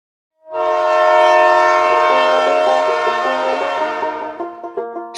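A train horn blares loud and close in one long sustained blast, rich in steady tones, with rail clatter rising beneath it as the night train passes in a horror tale; no voices.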